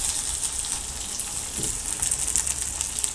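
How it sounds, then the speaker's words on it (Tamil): Onions fry in a pan for mutton kuzhambu with a steady, bright sizzle and crackle that holds even throughout, plus a faint soft stir partway through. "வெங்காயம் நல்லா வதங்கிடுச்சு."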